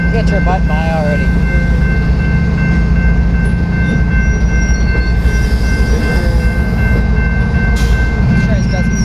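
A BNSF and Ferromex freight train switching cars in Slaton, Texas rolls past close by, a loud, continuous rumble with squealing wheels and clattering railcars.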